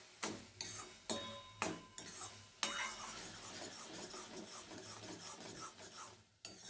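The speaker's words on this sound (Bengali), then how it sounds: "নেড়ে চেড়ে নেড়ে চেড়ে জলটা শুকানো পর্যন্ত অপেক্ষা করব" Grated carrot with sugar is stirred in a pan, a quiet sequence of scraping, rasping strokes with sharp clinks of a utensil against the pan, coming in irregular bursts, close and alone without talk.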